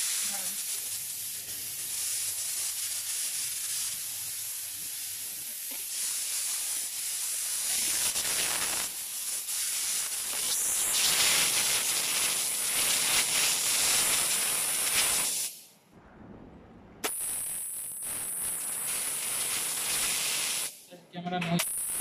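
A steam jet cleaning machine in a jewelry workshop, used on rhodium-plated white and rose gold pieces, gives off a loud, steady hiss that cuts out briefly twice before resuming, with some faint talk in the background.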